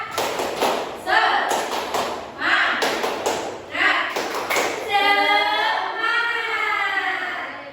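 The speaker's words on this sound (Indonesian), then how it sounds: "Coba semangat dulu, tepuk semangat." Fifth-grade schoolchildren in a classroom do a rhythmic spirit clap: bursts of patterned claps in quick groups, then voices rising together in a sung or chanted phrase, close and lively.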